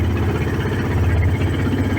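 A Sumo SR150 single-cylinder racing engine on a trimaran, running steadily at low revs as it is slowed down, a loud continuous rumbling drone with a fast regular thump, close by.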